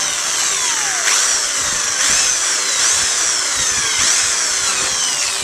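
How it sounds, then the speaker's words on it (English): A power drill bores steadily through a plastic mirror cover on a Range Rover Sport. The close, loud, continuous whine rises and falls in repeated pitch sweeps as the bit cuts, with no talking. "So if I just drill through that."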